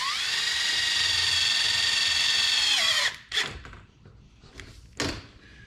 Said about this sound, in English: start putting the screws in. Now they're self-tappers